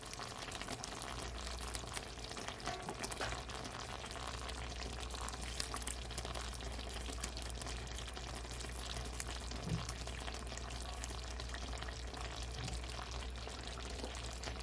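Chopped onions go into a hot pan with chicken-wing drippings and sizzle with a steady, even hiss that keeps up throughout, close and unbroken, with no one talking.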